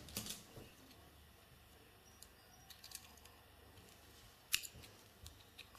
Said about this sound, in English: Alright, and then you can cut the excess thread off.